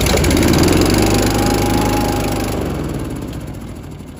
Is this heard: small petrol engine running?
yes